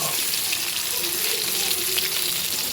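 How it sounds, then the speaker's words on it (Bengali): Potato pieces coated in turmeric powder and salt fry in hot oil, giving a dense, continuous sizzle that holds steady and fairly loud throughout without pause. "তো আলুটাকে ভাজার জন্য আমি একটু হলুদের গুঁড়া আর লবণ দিয়ে মাখিয়ে রেখেছিলাম।"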